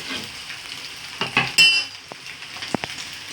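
Egg bhurji frying in a pan with chili, turmeric and salt gives a soft sizzle, broken by a few clinks and scrapes from a utensil stirring near the pan.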